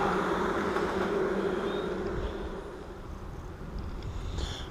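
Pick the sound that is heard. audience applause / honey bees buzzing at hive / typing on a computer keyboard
honey bees buzzing at hive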